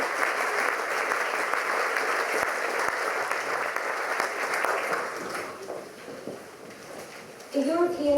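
An audience at a school prize night at Victoria College Belfast claps steadily, then fades out as a voice begins speaking toward the end.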